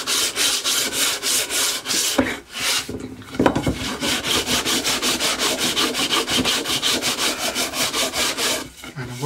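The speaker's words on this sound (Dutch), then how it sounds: "dit doe ik gewoon even met een blokje schuurpapier. Maak ik die scherpe randen even wat minder scherp." A small sandpaper block rubs back and forth along the sharp edges of pallet wood planks, making a steady, close, rhythmic rasping scrape. There is one short pause partway through, and nobody speaks.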